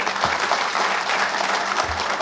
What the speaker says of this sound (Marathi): एकदा जोरात टाळ्या वाजवून स्वागत करा